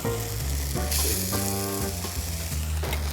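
Black-eyed pea batter fries in medium-high olive oil in a hot pan, a steady close sizzle with crackling that holds evenly throughout, with some tonal hum underneath.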